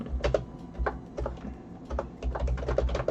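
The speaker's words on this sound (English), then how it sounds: "You can probably hear me typing." Rapid clicking of keys on a computer keyboard, irregular bursts of taps with short pauses between, close and clear, no talking.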